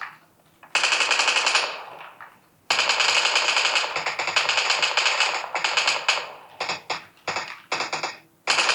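A Vector submachine gun fires in a shooter video game played on a Samsung Galaxy S25 Edge, with long loud rapid bursts and then shorter chopped bursts, close and dominant with no talk.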